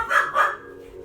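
A dog nearby gives two quick barks in close succession, fairly loud, in a residential housing complex, followed by quiet.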